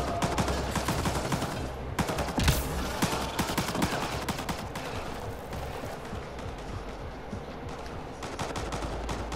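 Heavy sustained gunfire in the video game Mass Effect Andromeda, dense overlapping automatic bursts and sharp shots rattling continuously for several seconds, loud and close with no talk over it.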